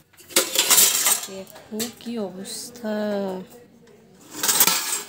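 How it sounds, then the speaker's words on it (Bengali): Cooking pots, a kadai and metal dishes clink and clatter as they are gathered up from a sunny veranda, sharp bursts at the start and end with someone speaking in between. "বাসনগুলো নিতে হবে ঘরে"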